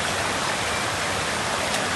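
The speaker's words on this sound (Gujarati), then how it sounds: "આ રીતે પાણી જાય છે" A stream flows over rocks near a waterfall in Dang, Gujarat. It is a steady, close rush of water that fills the whole short stretch evenly, with no voices.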